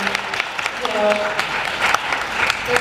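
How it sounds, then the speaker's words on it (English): Audience in a community forum on emotional health and suicide applauds steadily, a dense wash of clapping with a speaking voice faintly audible over it. "let's applaud our African American males that are in the room tonight"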